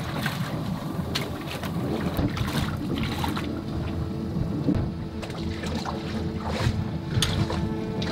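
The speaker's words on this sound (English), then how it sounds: "There's a big boat coming." Steady low engine rumble of a sailboat with a smoking engine on open water, with wind buffeting the microphone and occasional splashes; no voices.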